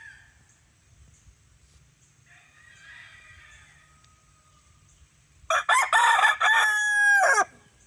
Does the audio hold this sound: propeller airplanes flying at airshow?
no